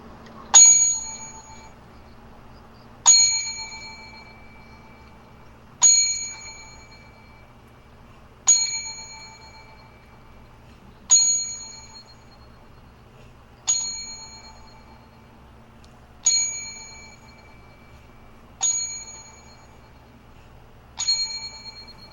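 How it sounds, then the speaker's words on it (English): A bell rings out a slow ten-bell salute, each single strike sharp and ringing before it fades, about nine evenly spaced blows heard alone in a quiet room. "we bang the bell 10 for a career that was pretty damn good."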